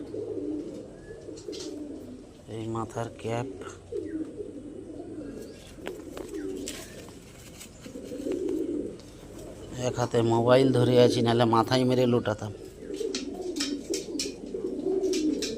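Lotan pigeons cooing up close, deep rolling coos rising in several bursts, loudest near the end, while someone talks over them.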